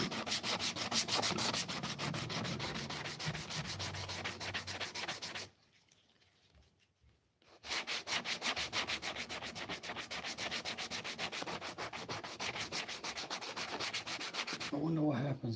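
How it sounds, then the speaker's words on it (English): A wooden surface is sanded by hand with 80 grit sandpaper: close, rhythmic back-and-forth rasping strokes run steadily, break off for about two seconds of near quiet, then resume at the same brisk pace. "that's 80 grit,"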